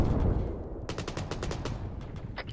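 Rapid bursts of gunfire from an Arma 3 infantry firefight, a string of sharp, closely spaced shots with a brief higher-pitched burst near the end, over a busy background rumble.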